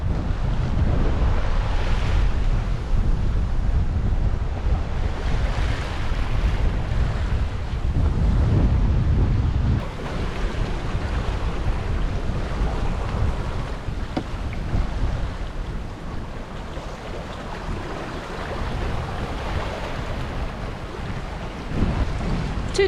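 Ocean swells two to three metres high surge and wash around a sailboat crossing the Atlantic from Mindelo, Cape Verde, with a northeasterly downwind breeze. Steady loud rushing water and wind buffeting dominate throughout, with no talking.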